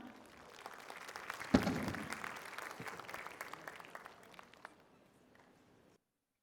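A school annual day audience applauding the guest of honour: loud, dense clapping that peaks sharply early, then thins into scattered claps and fades to silence.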